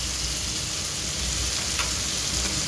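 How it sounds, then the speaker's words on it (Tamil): Okra sautés in a pan for a spicy South Indian kara kulambu, giving a steady, close, rain-like sizzle that runs unbroken throughout, with no talking. "இப்போ வெண்டைக்காய் உரல வதங்கி."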